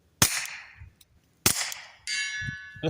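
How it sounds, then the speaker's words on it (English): Two loud rifle shots fired through an AAC Element 3 suppressor, each a sharp close crack with a short decaying tail about a second apart, followed by a ringing metallic ping from a steel target downrange. "We'll shoot some supersonics through this in a minute."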